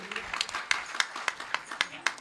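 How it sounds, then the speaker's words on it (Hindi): An audience at a ragini folk singing performance claps for the guru, a modest spread of sharp individual claps at an uneven pace, fairly faint and distant. "एक बार जोरदार तालियां गुरुजी के लिए।"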